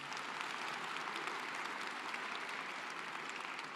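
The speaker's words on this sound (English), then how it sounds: "Another big round of applause for Alex and everything he's doing." Steady audience applause at an engineering graduates' recognition ceremony, a dense continuous wash of clapping from a large crowd, even in level and moderately distant throughout.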